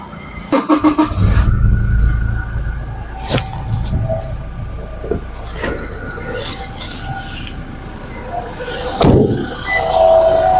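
A Toyota Innova Crysta engine turns over and catches, followed by a loud, close rumble with several sharp clunks and knocks as it settles into a steady idle.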